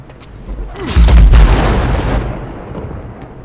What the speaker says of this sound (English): Long enough to give us the explosion.